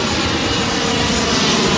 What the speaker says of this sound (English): Now, I got a plane going overhead,